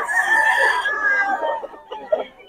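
A Sweater gamefowl rooster crows nearby, one long drawn-out call that trails off into a few softer clucks.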